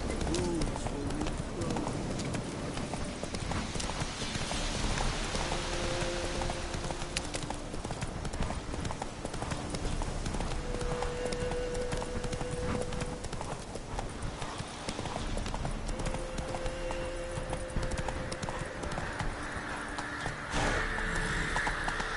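Roach, the horse in The Witcher 3, gallops with steady, rhythmic hoofbeats that stay loud and continuous. Faint birds and game ambience sit behind them, and a brief voice line is heard.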